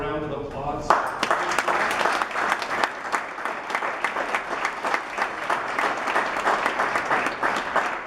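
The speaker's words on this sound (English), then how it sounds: "Could I have a round of applause?" A crowd at a school building dedication ceremony for Wissahickon Charter breaks into sustained applause right after a short bit of speech, the clapping loud, dense and even through to the end.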